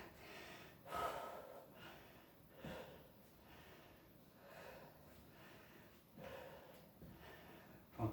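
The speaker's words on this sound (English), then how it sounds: "Try and control that breathing while we're laying down." Heavy breathing during a core and abdominal workout, with a rhythmic series of close, faint gasps and snorting exhalations spaced about a second or two apart.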